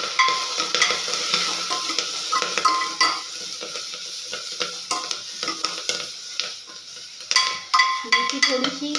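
Fenugreek leaves sauté in a pan with a bright, crackling sizzle, broken by repeated scrapes and clinks of a utensil stirring against the metal; faint voices are heard briefly.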